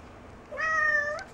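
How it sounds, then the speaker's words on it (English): A cat gives a single clear, drawn-out meow lasting under a second, close by in an otherwise quiet room. "are you meowing in here?"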